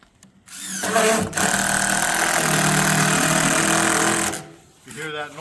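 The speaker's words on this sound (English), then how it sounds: "If you hear that noise you just heard, that means you're not on the screw right." Power drill slipping off a screw head during a garage build, giving a harsh grinding whir that runs for about three and a half seconds between short pauses, with faint voices around it.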